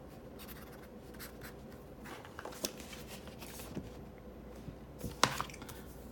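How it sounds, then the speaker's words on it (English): A felt-tip fineliner pen scratches softly across paper in a quick writing test, a faint, close, steady scribble with a few light taps and no talking. "So we will do a quick writing test."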